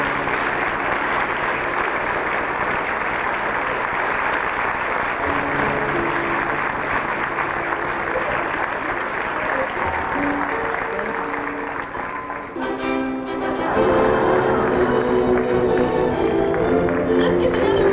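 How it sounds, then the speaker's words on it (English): A large audience at a televised magic show claps in sustained applause, loud and continuous, with a voice rising briefly over it toward the end. "Let's give another round of applause for the two fantastic guys"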